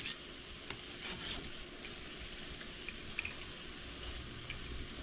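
Meat browning in a pan for a homemade crunch wrap filling, with a steady close sizzle and frying crackle running throughout and occasional soft stirring scrapes, no voices.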